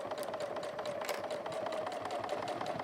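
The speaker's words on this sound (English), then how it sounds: "And I'm top stitching. I'm about 1/8 of an inch." A domestic sewing machine topstitching about an eighth of an inch from the edge of a fabric go bag, running steadily at close range with an even, rapid needle rhythm and a constant motor hum, with no talk.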